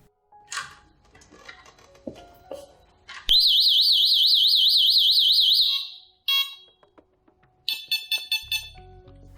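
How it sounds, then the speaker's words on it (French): A loud Delta Dore TYXAL+ home alarm siren warbles continuously for a few seconds, then a quick series of sharp beeps follows after a short pause. "la sirène a émis une longue série de bips"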